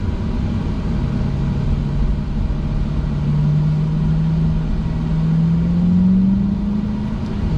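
Chevrolet Corvette C8 driving, heard as a continuous loud low engine drone and road rumble from inside the car, with a faint pitch rise partway through and no speech.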